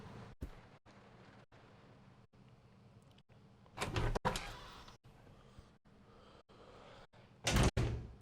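A door opening during a loading screen in the video game Resident Evil 0, heavy thuds and creaking clunks spaced across several seconds, with two louder bursts over a low ambient hum.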